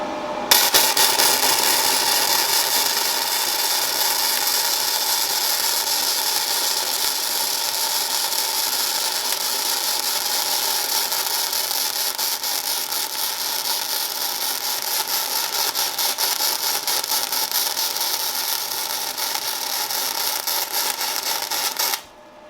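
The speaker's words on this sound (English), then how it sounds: "I am going to turn the heat up just a little bit for the second weld" A YesWelder FIRSTESS MP200 welder lays a bead, giving a steady, loud, continuous crackling buzz that holds for about twenty seconds before cutting off abruptly, with no voices.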